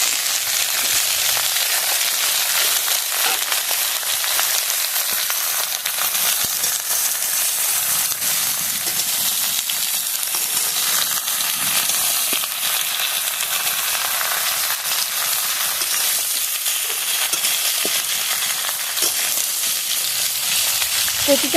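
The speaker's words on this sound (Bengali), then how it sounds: "রসুন কুচি, পেঁয়াজ কুচি, লঙ্কা সব লাল লাল করে ভাজা হয়ে গেছে। এখন আমি এর মধ্যে এই কচুটা দিয়ে দেবো" Taro (kochu) hits oil with chopped garlic, onion and chili that are already browned, and a steady broadband sizzle hisses continuously at moderate loudness for over twenty seconds, close to the pan with only slight fluctuations.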